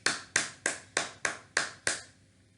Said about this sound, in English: let's give a round of applause to Arhan Khan, who was the quickest among all five sections